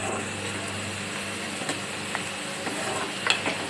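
Garlic frying in a pan for a Tamil garlic vattha kuzhambu gives a steady, moderately loud sizzle with occasional stirring scrapes and small pops, and no voices.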